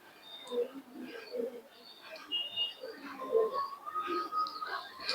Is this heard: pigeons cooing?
yes